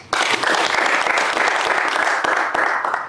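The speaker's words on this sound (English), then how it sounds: "Can we clap for them?" An audience at a cyclists' environmental conservation and climate change event breaks into loud, dense applause, a sustained wash of clapping that starts abruptly and carries on for several seconds.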